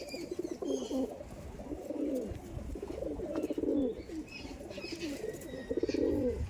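Madrasi pigeons coo in a repeated, rolling series of soft, throaty calls, fairly close, with light chirps and scattered noises in the background.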